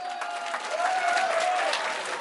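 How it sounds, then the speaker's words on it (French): A crowd at a Guinean independence celebration for the country's 52nd anniversary, held among Guineans living in New York, claps loudly and steadily, and a thin whistle-like tone rises briefly through the middle of the burst. "Donc applaudissez pour Larga."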